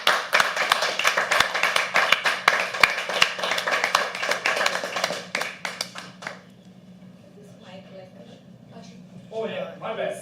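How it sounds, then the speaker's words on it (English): Applause from an audience at a live poetry open mic welcoming a poet to the stage, dense clapping fading out after about six seconds, then faint room murmur and brief chatter near the end. "So please can we have a huge round of applause and welcome Jigna."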